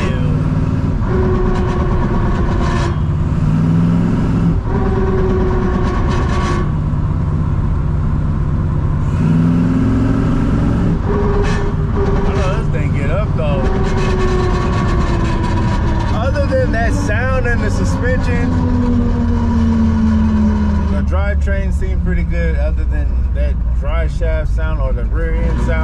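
A project car's engine makes a rising and falling drone with an odd noise whenever the gas is let off, running continuously under someone talking.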